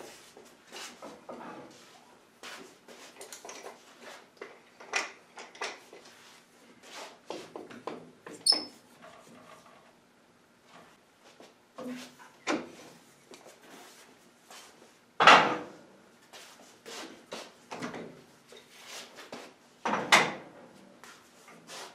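Clamps are tightened onto a wooden sacrificial fence at a resaw setup: a series of close clicks, ratcheting and wooden knocks in irregular bursts, with a few louder clunks and quiet gaps between.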